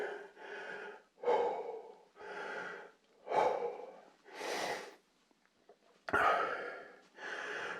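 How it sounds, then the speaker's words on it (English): Heavy breathing while scrabbling through a rocky cave near Kallepeia in Paphos: close, quiet gasping breaths and snorting exhales in an uneven rhythm, about seven puffs separated by short silences. "Normally I have to apologise for heavy breathing in my films, but in this instance it's entirely justified."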